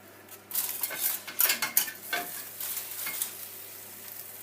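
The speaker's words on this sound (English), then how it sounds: "So what I want to do now is turn it over to make sure it cooks on the other side as well." A utensil scrapes and clatters against a pan as tilapia fish is turned over, with sharp metallic knocks over a soft sizzle of frying, close and fairly loud before settling into quieter cooking noise.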